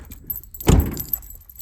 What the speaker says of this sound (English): Taking my keys and locking this bitch.